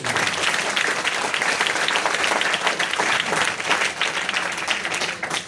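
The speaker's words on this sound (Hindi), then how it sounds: "मैंने कहा अगर ताली मारनी है तो जोर से" Loud, dense applause from a large audience at a university convocation ceremony, with sustained clapping throughout and no pauses.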